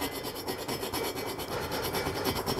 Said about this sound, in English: I'm just with a modelling file, it's very fine. I'm just literally gonna just ream that out